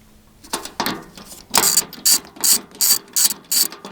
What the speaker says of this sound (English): For the bolts, you need a 16mm socket.